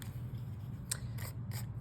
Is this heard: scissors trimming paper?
yes